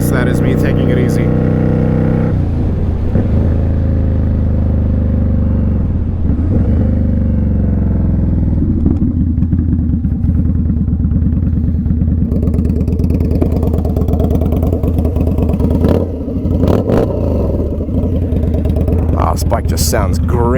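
Custom Indian Scout Bobber motorcycle being ridden, its loud engine and exhaust revving up and dropping through several throttle swells and gear changes, close and raw, with someone talking over it.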